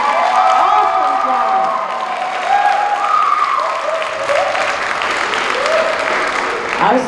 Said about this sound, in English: I think we can give him one more hand clap.